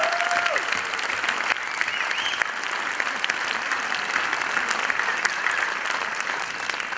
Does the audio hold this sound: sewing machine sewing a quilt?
no